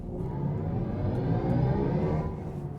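A smooth, continuous synthetic hum from a BMW iX3 electric car swells steadily like an electric motor accelerating, a layered whirring tone with no speech.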